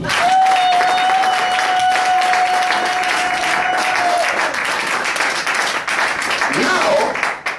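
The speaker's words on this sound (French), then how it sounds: "Applaudissez plus fort." Church congregation at a Saturday seminary service applauding loudly and continuously, a dense wash of clapping close and full, with a faint sustained tone and voices underneath that taper off near the end.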